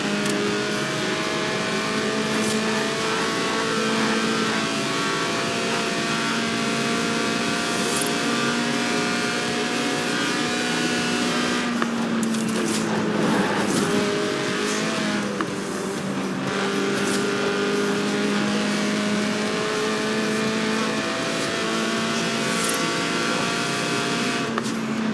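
In the Forza Horizon 4 video game, a Lotus's 1.8-litre engine revs hard toward 8,000 RPM while drifting, a loud, continuous high-pitched drone that rises and dips with throttle changes and a brief rough patch midway, with no voices.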